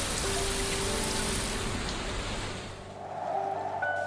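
Steady rain falls in a children's animated audiobook, a dense hiss of drops on surfaces that fills the scene loudly and evenly, dipping briefly before swelling back.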